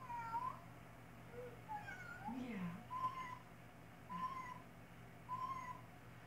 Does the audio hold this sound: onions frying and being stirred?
no